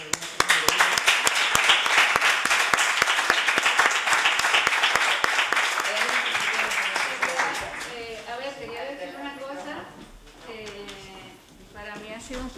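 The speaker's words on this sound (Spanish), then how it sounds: "dedicaros este gran aplauso que es para vosotras" Audience applause at a charity programme event, a loud burst of clapping for several seconds that fades out, followed by someone speaking in Spanish.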